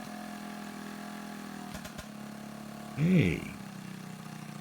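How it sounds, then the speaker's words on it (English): Predator 224 engine with a Mikuni clone carburetor idling in a steady low drone, then briefly revving up near the end, close by, with a short spoken word over it. "I'm lowering the idle and it started speeding up"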